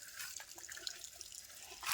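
Spring water trickling and flowing from a seep outdoors, a steady light splashing with small drip-like accents, fairly close and moderately quiet, with no talk.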